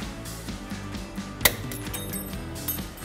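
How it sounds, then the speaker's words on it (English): Snap ring pliers pry an E-clip off a Dynatrac heavy-duty ball joint on a Jeep Wrangler JK axle: faint metallic scraping and clicks, then one sharp metallic snap as the clip pops free, close up. "get a pair of snap ring pliers and take this E-clip off"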